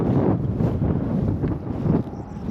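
Outdoor wind buffets the microphone in a steady, loud rushing roar with gusty fluctuations throughout, no clear voices over it.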